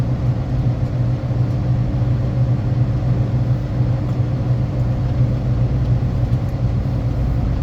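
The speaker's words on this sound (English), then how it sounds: "if you've ever wondered what it's like driving around a wind farm, this is what it's like" A truck driving on dirt roads around a wind farm while hauling crane parts, heard from inside as a loud, steady low engine and road rumble with no pauses.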